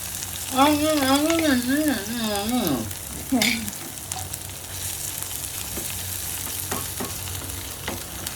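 Crushed ginger and garlic frying in hot oil and stirred, a steady close sizzle with scraping strokes throughout; a voice sings a wavering melodic phrase over the first few seconds.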